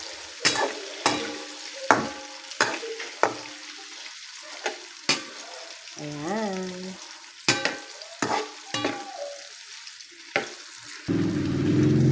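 Hotdogs and luncheon meat fry in a pan, a soft sizzle under repeated sharp clanks of a utensil stirring and scraping the pan; a voice speaks briefly.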